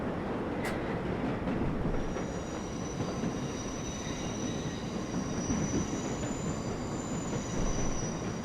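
New York subway number 7 local train running in the World of Subways 4 simulator, a steady loud rolling rumble with high wheel squeal building midway and continuing, no talk.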